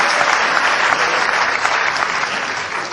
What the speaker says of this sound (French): c'était là qu'il fallait applaudir